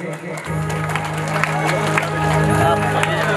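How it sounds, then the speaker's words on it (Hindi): At a devotional Kharvi Mata song gathering, an audience claps along in a steady rhythm over a sustained drone and singing voice, crowd noise thick and loud. "आप सभी की ताली चाहूंगा"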